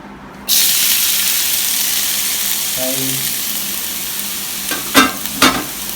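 Sliced onions drop into hot oil and burst into a loud, steady sizzle that holds through the span, with a few sharp scraping clatters from stirring near the end.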